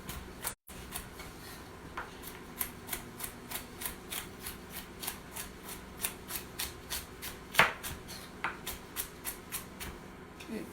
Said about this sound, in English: if I use my knuckles as my guide, I can slice the carrots without cutting my fingers open